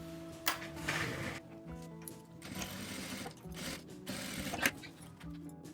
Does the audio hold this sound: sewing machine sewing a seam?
yes